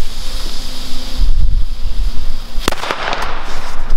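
A single sharp bang from a Pyro Art Böller C firecracker on New Year's Eve cracks out over loud wind noise blowing across the microphone, followed by a brief rumbling echo.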